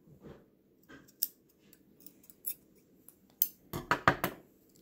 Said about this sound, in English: When I get my working yarn, not my tail, I will cut that.